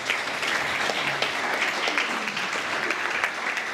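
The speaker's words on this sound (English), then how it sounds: "Round of applause for that," Audience applause at a community mental health and wellbeing launch, a steady, full round of clapping from a gathered crowd with a faint voice briefly beneath it.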